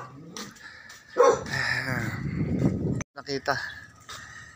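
A dog barks a few times close by, with people talking over and around the barks.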